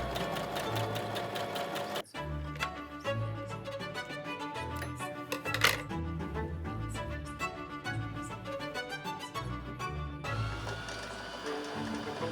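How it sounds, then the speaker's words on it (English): A sewing machine stitches a skirt made from a bedsheet with a fast, steady mechanical chatter up close. It pauses briefly near the start and shifts pace toward the end, with no talking. "So I'll just do the same on the other side and then sew that on."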